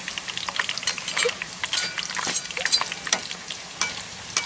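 Homemade potato chips frying in hot oil while being stirred, with continuous sizzling and crackle and bright scraping stir strokes throughout, close and fairly loud, no talking.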